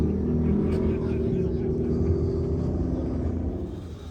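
A bright green dune buggy with a 383 LS engine rumbles with a deep, steady throb at the Glamis dunes, close and loud, slowly fading over a few seconds.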